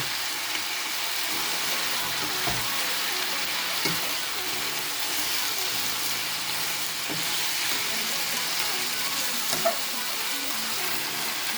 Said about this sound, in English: Then red onions, and I give it a good stir.